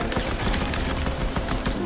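Rapid pistol fire from a Fortnite match, a dense run of sharp cracks repeating quickly across the whole moment, loud and close with no talk over it.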